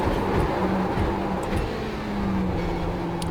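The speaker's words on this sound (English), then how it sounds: "you can hear the wonderful sound of this Ferrari GT3 car" Ferrari GT3 race car engine in iRacing, a loud sustained motor drone with low humming tones shifting in pitch as the car runs through a lap, no talking over it.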